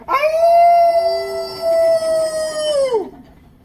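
A person imitates a wolf howl, a single loud, sustained tonal wail held for about three seconds, with a couple of short dips, before sliding down and cutting off.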